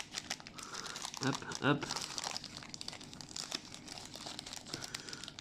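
A trading card booster pack wrapper is torn open and crinkled at close range, producing bursts of crackling plastic with a louder tearing crunch partway through, while someone talks quietly over it.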